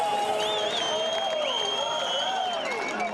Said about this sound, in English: And the crowd goes absolutely wild for this young rider.